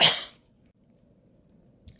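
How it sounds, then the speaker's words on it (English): One sharp, close cough from an adult bursts out at the start, then fades into near silence, with a faint click at the end. "excuse me, I had to cough."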